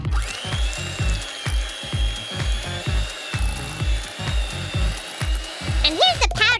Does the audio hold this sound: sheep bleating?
no